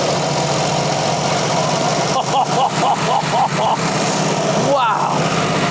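An abandoned 80s classic car's previously seized engine runs and idles with a steady, loud rumbling hum, while voices exclaim over it near the middle and end.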